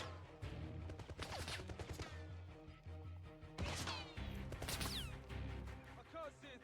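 Gunfire in the video game 007 First Light aimed at the player, with rapid shots, crashes and impacts in dense bursts over a continuous game soundscape, loud and close, with voices talking throughout.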